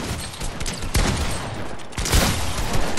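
Rapid gunfire in a video game, dense bursts of shots close and loud, with a heavier cluster of blasts near the middle and another toward the end.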